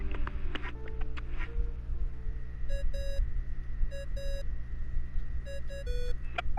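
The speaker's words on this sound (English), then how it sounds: "I really hate that ringing tone." A ringing tone sounds in a video game, repeated electronic beeps in short pairs and bursts over a quiet background hum.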